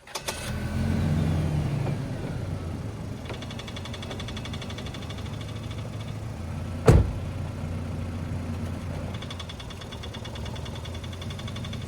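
Supercharged car engine running while driving, a steady low hum and drone with a faint mystery noise in the mix and one sharp thump partway through.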